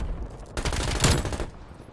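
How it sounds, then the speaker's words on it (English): A submachine gun fires in a Call of Duty match on PC, a short dense burst of rapid shots lasting about a second, loud and close, with no talking over it. "this SMG is killer"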